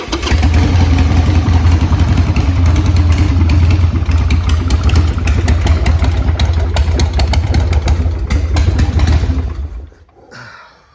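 A 1996 Harley Davidson 883 Sportster Hugger starts and runs at a loud, steady idle close up, with a low throbbing rumble and clatter that holds for about nine seconds before cutting out.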